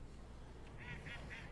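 Ducks in a park give three short, faint quacks in quick succession, heard at a distance over a steady background hum.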